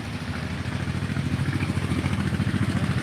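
A 2008 Farmtrac tractor fitted with an HR turbo idles nearby, a steady rhythmic diesel chug with clattering pulses, loud and continuous with no talking.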